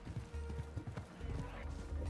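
Rhythmic camel footsteps clop steadily close by in the video game Assassin's Creed Mirage, a plodding animal gait with a low rumble underneath and some faint background chatter.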